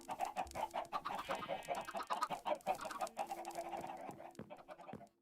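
Chickens in a Minecraft chicken pen cluck and chatter continuously, several birds overlapping in quick, busy bursts at close range.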